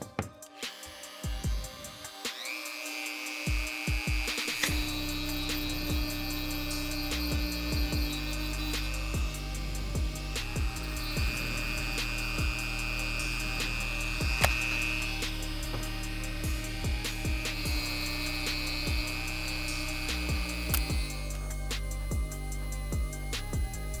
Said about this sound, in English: Gotta remove all that using the Dremel